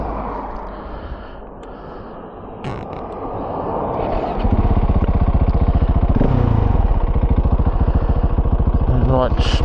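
Husqvarna 701 motorcycle engine idling, quieter and uneven at first, then settling into a louder, steady thumping idle with brief revving blips, close by, with someone talking over it early on.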